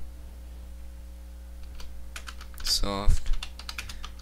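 Computer keyboard typing, a short burst of keystroke clicks under a low steady hum, close and moderately loud, with a faint voice nearby.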